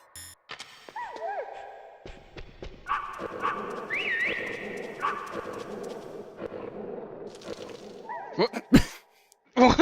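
Dogs bark and yelp in the video game Metal Gear Solid, a string of close, sharp barks with game sound effects and a brief loud burst near the end.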